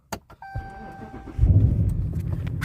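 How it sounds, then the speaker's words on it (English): A 2018 Ram 1500 Sport pickup starts up, with a short chime and a few clicks before the engine catches and settles into a low, steady idle rumble close by. "turn the car on."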